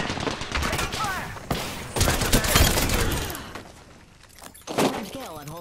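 Gunfire in the battle royale game Apex Legends, rapid bursts of automatic shots crackling in clusters alongside breaking and impact effects, with voices calling out between volleys.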